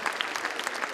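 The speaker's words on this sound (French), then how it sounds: "On les applaudit." A crowd at a rugby league club's 70th anniversary evening bursts into dense, steady applause, the clapping loud and continuous throughout the brief moment.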